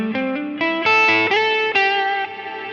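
Guitar notes played through a Line 6 Helix with a ducking reverb, a series of sustained distorted-sounding notes changing pitch every half second, with the reverb tail swelling up after the playing stops, loud and close.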